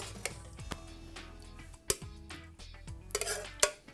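Beef bourguignon spooned into two serving dishes, giving a series of close clinks and scrapes of a spoon against crockery, with sharp knocks near the start, the middle and the end over a low background hum.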